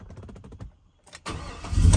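A big-cam LS V8 cranking with rhythmic starter pulses, a short pause, then catching and firing into a loud, rising rumble.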